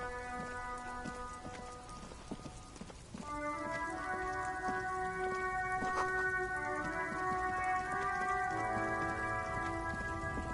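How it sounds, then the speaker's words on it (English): Steady rain in the video game Disco Elysium, a constant hiss of drops on surfaces running throughout, with sustained musical tones layered over it and no talking. "It's raining again."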